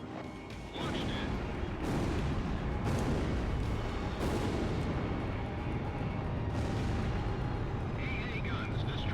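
Repeated heavy explosions rumble over a continuous roar of jet engines and battle noise as anti-aircraft guns are destroyed in the flight combat game Ace Combat Zero, with radio voices talking throughout.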